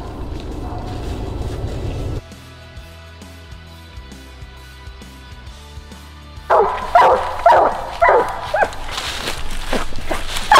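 A treed coonhound on a coon hunt barks at the base of a tree, with a run of loud, close, rapid bow-wow barks in the last few seconds after a quieter stretch.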